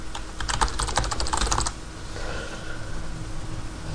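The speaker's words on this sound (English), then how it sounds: "and type into Google" Rapid clicking keystrokes on a computer keyboard rattle for about a second and a half as a search is typed, then stop, leaving quiet room tone.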